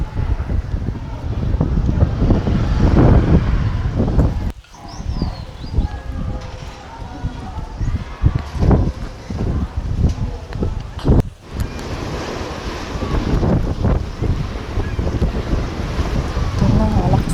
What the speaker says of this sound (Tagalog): Ito na, malakas ang hangin.